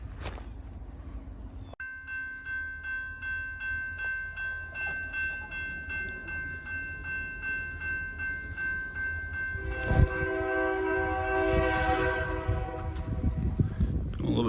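A westbound Cincinnati Eastern Railroad freight train approaches with a sustained horn blast that swells louder as it nears, followed by rumbling wheels and rolling rail noise as the cars pass close by.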